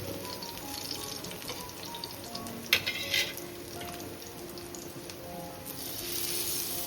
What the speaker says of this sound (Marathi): चला आता आपण तेलामध्ये मच्छी सोडूया.